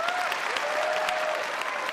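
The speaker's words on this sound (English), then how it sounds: "The prize was a standing, a standing ovation and applause." An audience breaks into applause and a standing ovation, a dense, steady wash of clapping from a crowd lasting about two seconds, moderately loud throughout.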